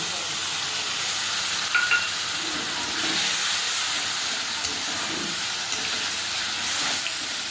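Water-soaked coriander and cumin powder added to chicken in a hot pan for a home-style Bengali chicken curry, a loud steady hiss and sizzle throughout with faint stirring clinks, close and continuous with no talking.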